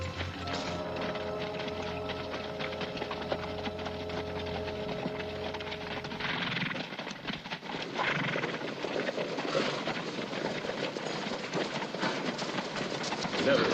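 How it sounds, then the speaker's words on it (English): Horses clip-clop and move about in an old 1950s Western film scene, with steady hoof sounds and mixed background noise at moderate loudness. "Horses."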